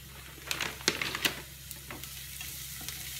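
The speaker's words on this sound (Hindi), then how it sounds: "तो मैं गाजर को 2 मिनट के लिए भून लेती हूँ" Carrots sauté in a pan for whole wheat vegetable pasta, giving a soft, close sizzle punctuated by a few crisp clicks of stirring early on, then settling to a quiet hiss.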